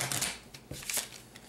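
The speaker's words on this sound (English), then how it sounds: "then you're going to shuffle the deck" A deck of playing cards being shuffled during a tabletop zombie board game, with brief riffling bursts that are soft and close.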